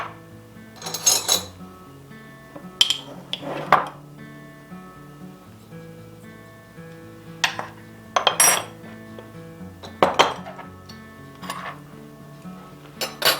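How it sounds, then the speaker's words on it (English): A measuring spoon clinks and scrapes against a mixing bowl while stirring salt and other ingredients, in scattered bursts of sharp metallic taps separated by quieter gaps, close up with no talking. "I'll just give these a quick little stir with my measuring spoon here"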